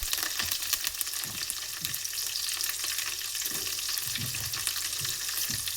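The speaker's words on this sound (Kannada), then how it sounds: "ಸೊ ಇದನ್ನು ಚೆನ್ನಾಗಿ ಫ್ರೈ ಮಾಡ್ಕೊಳ್ಳಿ." Curry leaves and green chilies fry in hot oil with a steady, close crackling sizzle, punctuated by occasional scraping stirs, with no voices over it.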